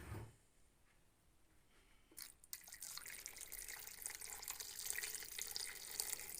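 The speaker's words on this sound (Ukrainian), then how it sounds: "далі заливаємо водою" After a quiet start, water begins pouring steadily into a cooking pot, a continuous splashing rush that carries on to the end.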